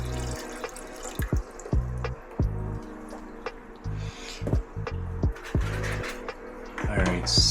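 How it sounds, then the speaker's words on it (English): Conditioned water runs and splashes into 5-gallon aquarium tanks being filled halfway, close and fairly loud, with irregular gurgling surges, drips and sloshing throughout. "now that I have the tanks filled halfway with conditioned water"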